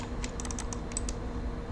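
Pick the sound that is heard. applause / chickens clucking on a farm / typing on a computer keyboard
typing on a computer keyboard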